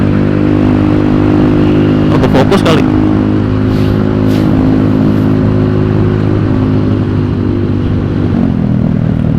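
A car passes close by a motorcycle workshop, its engine hum swelling with a brief clattering rattle, all heard under steady idling engine noise while a person speaks.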